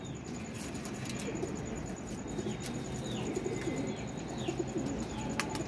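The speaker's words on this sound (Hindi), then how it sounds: "ये देखें ज़रा, शौक करवाता हूँ आपको कबूतर का।" Soft pigeon coos repeat against a busy background hum, with occasional chirps and faint clicks mixed in.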